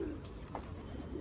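A şeşka dolapçı pigeon coos softly in a rooftop loft, a brief low murmuring call heard close over steady background noise, with no talking.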